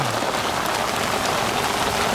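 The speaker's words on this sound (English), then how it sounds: "hailstones in September now and torrential rain" Torrential September rain and hailstones pelt down at a carp-fishing spot on Burghfield, a dense, steady hiss of heavy downpour filling the whole stretch with no voices.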